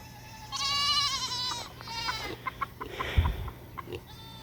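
Goats kept in a shaded pen on a hot day bleat in long, wavering cries, one drawn-out call followed by shorter ones, fairly close, with soft clucking and thumps from fowl nearby.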